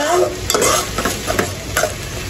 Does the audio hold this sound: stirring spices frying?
yes